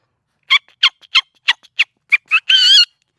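A voice imitates a chicken: a series of short, evenly spaced clucks followed by one longer drawn-out squawk, loud and close.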